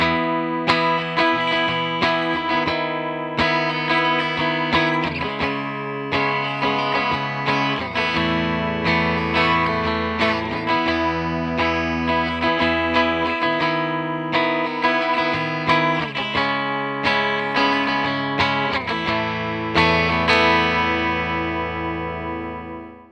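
Squier Sonic Mustang electric guitar on its bridge pickup, strummed and picked alone with a bright, twangy tone, chords ringing steadily with light effects and a touch of grit, close and loud throughout.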